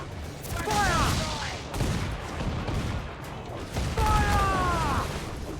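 Cannons fire in bursts from a pirate ship during a naval battle in Assassin's Creed IV: Black Flag, with a broadband volley near one second, another near four seconds, and a shouted voice in between.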